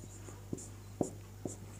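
Chalk or marker strokes on a board, with three short, distinct taps spaced about half a second apart, quiet and close in a still room.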